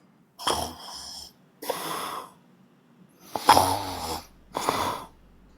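A person snoring during a TikTok live stream, with four loud, rasping snore bursts spaced a second or so apart, close and clear with quiet gaps between.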